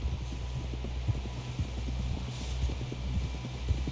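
Horse hooves clip-clop steadily in Red Dead Redemption 2 as a rider heads toward camp buildings, a continuous rhythmic trot with many quick hoofbeats over a low rumbling background.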